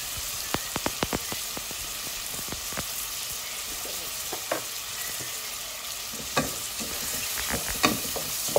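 Raw prawns, 350 grams, hitting a pan of hot spices for saag prawn: a steady close sizzle and crackle, broken by sharp pops and scraping stir strokes, with no voices.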